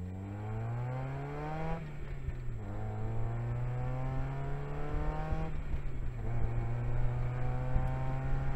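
A Mazda Miata with a straight exhaust drones steadily from close by, loud and raspy, its pitch climbing through the gears and dropping at each shift.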